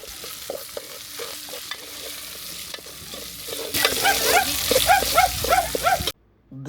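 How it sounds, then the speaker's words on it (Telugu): Country chicken curry being stirred in a pan over a strong flame, with a spoon scraping and the food sizzling, the frying growing louder and busier before stopping abruptly. "కలుపు కింద మంట బాగా ఉన్నది కాబట్టి చక్కగా కలుపుతూ ఉండాలి, లేకపోతే మాడిపోతుంది"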